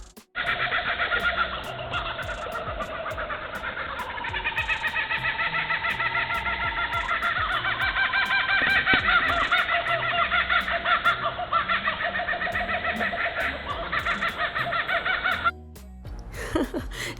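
A loud, continuous cackling chorus of laughing kookaburras, rising and falling laugh-like calls repeated for many seconds, close and dense, ending abruptly.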